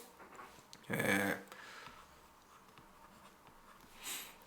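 Pen or pencil writing an equation on paper, a faint scratching stroke with one louder burst of scribbling near the start and a brief scratch at the end, quiet and close, no talking.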